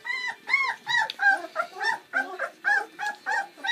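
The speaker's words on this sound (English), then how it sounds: "Puppy's first breakfast." Bernese Mountain Dog puppies at their first breakfast give a run of close, rapid whimpers and high yips, one after another with no pause.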